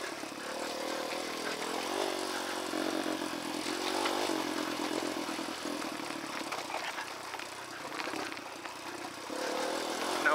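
A dirt bike rides downhill over rocks in Red Rock Canyon, its engine a steady, fairly faint drone with small shifts in pitch and no talking.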